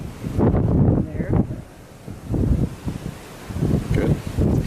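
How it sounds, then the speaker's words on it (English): Gusty wind buffets the microphone in rumbling waves aboard the cruise ship Carnival Pride at sea, with people talking underneath the roar. "It's probably pretty windy"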